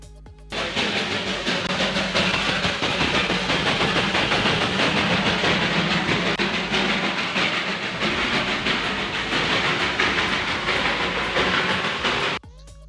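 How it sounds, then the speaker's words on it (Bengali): The Darjeeling toy train rolls along its narrow-gauge line with a loud, dense rumble, hiss and rattle that starts abruptly, holds steady close by for about twelve seconds, then cuts off. "বিশ্বের গুটি কয়েকটি দেশে এই টয় ট্রেন চলাচল করে, তার মধ্যে দার্জিলিং অন্যতম।"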